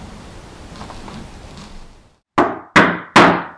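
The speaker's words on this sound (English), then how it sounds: "What is that knocking?" Staged knocking effect in a 1960s–70s performance of Macbeth: after a soft hiss fades to silence, three loud, close, heavy knocks land evenly spaced, each with a short ringing decay.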